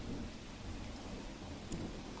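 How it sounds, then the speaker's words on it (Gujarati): Heavy monsoon rain pours down steadily over the Dantiwada and Deesa area of Banaskantha, a dense continuous roar close by with a brief sharper splash near the end. "દાંતીવાડા, ડીસા સહિતના પંથકમાં ધોધમાર વરસાદ વરસ્યો."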